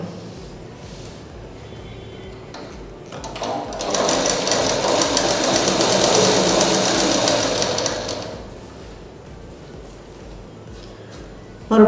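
A sewing machine stitches pleats into fabric in one loud, steady whirring run of about four seconds, with softer handling noise before and after.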